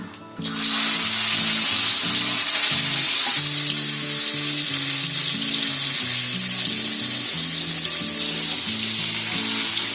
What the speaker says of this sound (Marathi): ते आता मी तेलामध्ये फ्राय करून घेणार आहे.